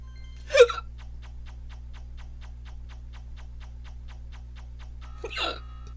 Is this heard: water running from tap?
no